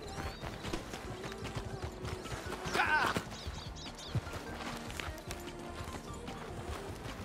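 Horse hooves clip-clopping in Red Dead Redemption 2 roleplay, a steady run of soft hoof beats through the whole stretch with a brief louder burst midway, set under background game ambience.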